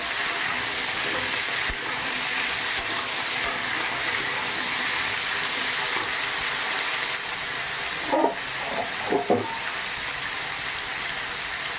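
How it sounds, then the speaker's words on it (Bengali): Young drumstick vegetables frying in a pan over a medium gas flame, a steady broadband sizzle throughout with a few brief louder clatters of stirring near the end. "গ্যাসের ফ্লেমটা মিডিয়ামে রেখে এটা কিছুক্ষণ এইভাবে ভেজে নেব ঢাকা দিয়ে"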